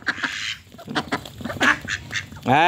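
Ducks quack loudly and excitedly while being fed fish, a rapid run of close, overlapping calls with a harsher burst at the end.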